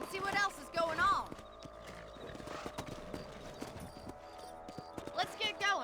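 Hollow clip-clop of horse hooves trotting at a steady pace in the video game Red Dead Redemption, with a brief whinny, under game background music and someone talking.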